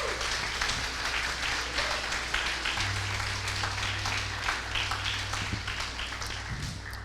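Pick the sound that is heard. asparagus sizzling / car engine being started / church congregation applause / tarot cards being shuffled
church congregation applause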